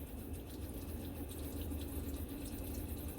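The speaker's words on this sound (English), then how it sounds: "Unplug it, turn on the water." Water running steadily from the vanity sink faucet inside an RV, a continuous hiss and splash at close range with even loudness.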